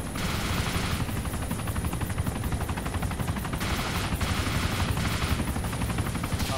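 A gunner's machine gun firing steadily in a combat video game, a dense continuous rattle over engine and battlefield din, loud and unbroken throughout.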